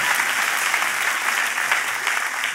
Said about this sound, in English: Oh, the applause died down by